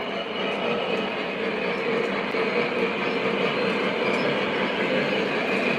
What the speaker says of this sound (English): We got a nice ore train going now